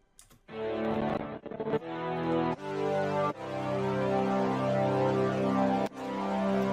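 A blurred synth pad washed in shimmer reverb moves through a series of sustained chord changes, each swelling in with bright, airy upper overtones, alone and moderately loud.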